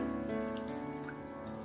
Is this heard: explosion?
no